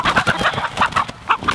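A white hen clucks in short, repeated bursts at a homestead near a wire fence, the calls close and fairly loud, coming in quick irregular groups with no talking.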